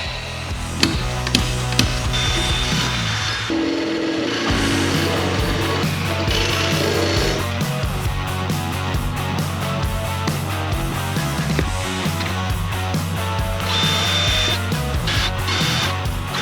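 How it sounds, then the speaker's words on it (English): Power drill boring holes for the seat bolts of a racing bucket seat in a Foxbody car, a loud continuous whirring and grinding that varies as the bit bites, with a brief pause partway through. "let's drill these holes"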